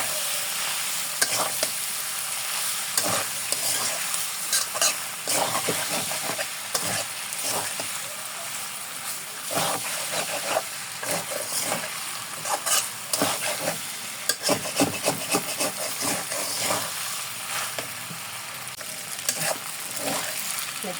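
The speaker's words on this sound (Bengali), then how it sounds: "আর দিয়ে দিব একটা এই যে ম্যাগি মশলা। মশলাটা ভালো মতো মিলাই নেব।" Pasta noodles being stirred with Maggi masala in a pan, a steady run of scraping and clicking stir strokes over a soft, continuous sizzle, close and fairly quiet throughout.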